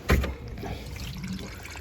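Soapy water drains from the gray tank of a Jayco 27BHB RV, starting with a sudden gush and settling into a steady rushing flow.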